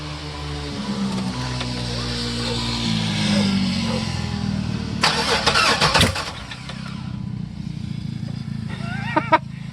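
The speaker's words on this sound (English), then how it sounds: "Now we're going to check it while it's cranking. Go ahead and crank it." A Chevrolet LT1 V8 with a no-start fault cranks with an uneven whirring starter, then catches and idles briefly. A sharp burst of mechanical clatter comes midway, and faint voices are present.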